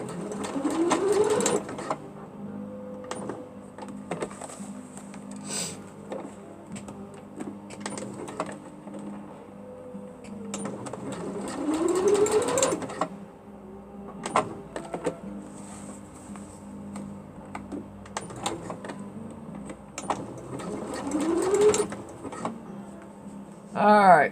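Sewing machine running a zigzag stitch in repeated bursts, each a few seconds of rapid whirring with stops between, fairly close and moderately loud.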